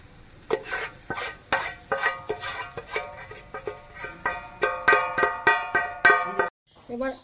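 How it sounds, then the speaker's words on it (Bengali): Green peas being stirred and fried in mustard oil, a utensil scraping and clinking against the pan in a steady rhythm of repeated strokes, close and fairly loud, with a faint sizzle underneath and no talking. "তো এইভাবে মটরশুঁটিটা আমি নেড়ে চেড়ে খুব সুন্দর করে ভেজে নিচ্ছি।"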